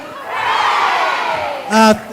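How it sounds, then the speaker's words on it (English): School audience of parents and children cheering at a nursery-to-grade-2 performance, a loud sustained crowd shout that swells and fades, then a sharp short burst of cheering near the end. "can we give 3 cheers for nursery, kinder, pre-K, grade 1, grade 2"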